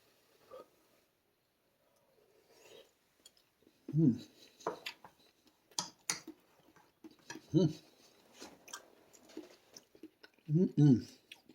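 Someone tasting homemade corn pudding, with a few soft, moist chewing and mouth sounds spaced between quiet spoken remarks, faint and close.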